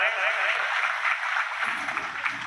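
An audience at a Hindi comedy and poetry gathering (kavi sammelan) claps steadily, a dense, sustained patter of many hands that stays fairly loud throughout, with some voices mixed in.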